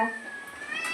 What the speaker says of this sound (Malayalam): അതുണ്ട് പൂച്ച